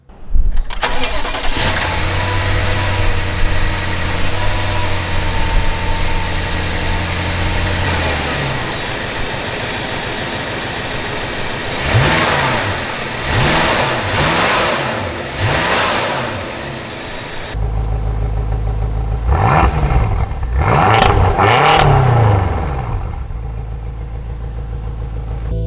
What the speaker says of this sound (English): let's hop back in the driver's seat and see what it's like to drive the 2014 BMW M5